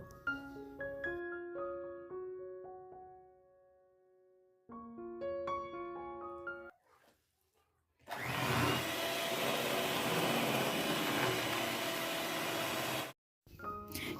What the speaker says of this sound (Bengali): সমস্ত কিছু ভালো করে এখন ব্লেন্ড করে নেব